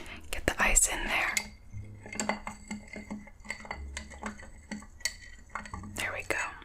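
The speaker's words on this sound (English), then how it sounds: "Get the ice in there." Ice clinks and rattles as a mezcal cocktail is stirred at a bar, with scattered close, crisp knocks and clicks under soft whispering and faint muffled music.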